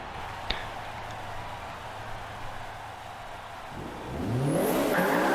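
A Nissan 240SX drift build in Forza Motorsport 5 drones along at steady revs through a lap, then surges into a loud, rising rev with a sharp tire squeal near the end.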